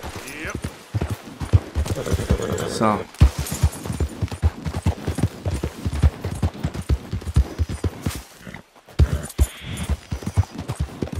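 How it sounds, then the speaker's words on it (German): Horse hooves clip-clop in the Red Dead Redemption 2 video game, a steady rhythmic trot of close, sharp hoofbeats that continues through most of the stretch, with someone speaking briefly. "Da ist unser Pferd."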